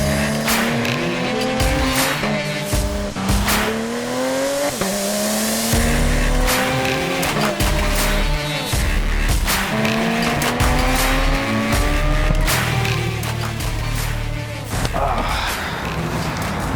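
Porsche GT3 RS on a track, its engine wailing loud and close through repeated rising gear sweeps, cut by tire squeal and skidding through corners, continuous throughout with no talking.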